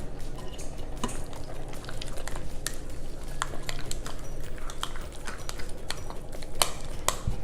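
Creamy bacon dip ingredients being stirred in a bowl, a steady, soft wet mushing with scattered light clicks and scrapes of the utensil against the side, close and alone.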